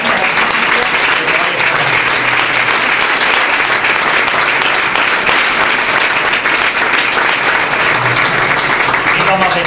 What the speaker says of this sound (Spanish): me gustaría que esta tarde le dieran un fuerte aplauso porque son las grandes